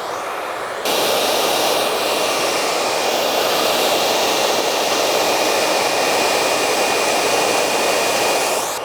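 Hair dryer blow-drying a section of hair: a loud, continuous rushing whoosh that kicks up in strength about a second in, then stays steady and close with no talk.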